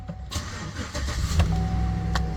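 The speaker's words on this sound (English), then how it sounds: "Let's start this truck up." A 2011 GMC Sierra 1500 pickup truck cranks and fires up, its engine catching and settling into a steady close-up idle with a faint whine over the rumble.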